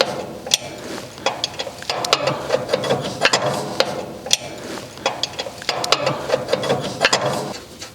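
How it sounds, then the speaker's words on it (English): Ratcheting clicks of a wrench tightening the track tensioner bolt on a mini skid steer, turned clockwise in repeated short strokes with metallic ticks and rubs, close and fairly loud with no talking. "then you go back to the original bolt and then you tighten it clockwise to be able to tighten those tracks"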